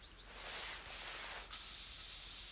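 Spray applied in a hunting video game while stalking a Cape buffalo: a soft airy hiss, then an abrupt, loud, steady high-pitched spray burst holding on to the end, no talk.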